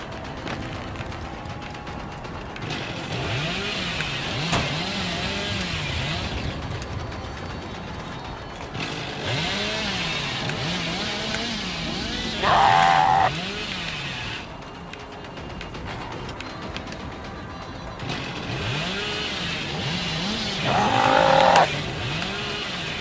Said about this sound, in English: sorry about these like sudden stops in the chainsaw spin.